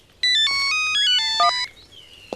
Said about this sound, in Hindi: पकड़, फोन आ गया।